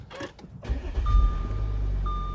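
An Audi Q5 with a newly replaced brake booster and ABS warning lights on starts up: a short starter crank catches into a steady, close idle, with a thin electrical whine running above it.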